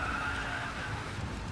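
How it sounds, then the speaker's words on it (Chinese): Tires skid and squeal in a sustained inertia drift in a racing video game, with a Bugatti car kit in play, as a steady, loud screech holds over engine roar for the whole stretch, with no voices. "我直接打成惯性漂移。"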